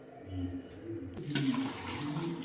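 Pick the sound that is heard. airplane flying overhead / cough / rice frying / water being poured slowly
water being poured slowly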